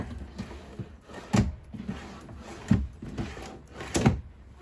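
Drawers in a 2022 Sunseeker 3010 DS motorhome slide open and shut, three distinct knocks spaced about a second and a half apart with softer rattles between, close and fairly quiet.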